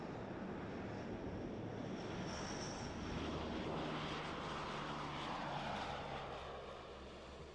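Engines of a Lockheed C-130D Hercules, a ski-equipped variant of the four-engine turboprop transport built for Arctic and Antarctic operations, roar as a loud, steady, broadband drone that holds for the whole stretch and eases slightly at the end.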